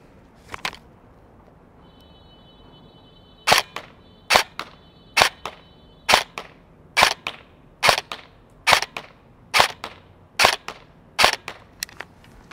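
A Helios Umbrella Corporation M4 airsoft rifle fires about a dozen sharp single shots at a steady rhythm, each crack followed by a faint target hit downrange at 50 feet. A brief electronic beep comes near the start.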